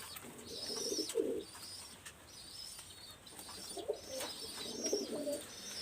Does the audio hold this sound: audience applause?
no